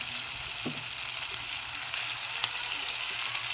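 Onions sizzle and fry steadily in a hot pan for a prawn and brinjal curry, a continuous close crackle with a few stirring knocks and no talk.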